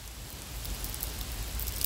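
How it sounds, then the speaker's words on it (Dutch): Rain falls in a park, a soft, even hiss of drops with a few slightly louder patters, quiet and continuous throughout. "En het regent, water."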